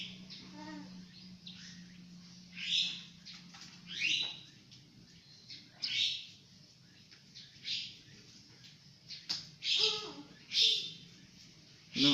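A quail calls repeatedly during a hunt, short sharp high chirps in irregular bursts, fairly near, with a faint voice low in the background.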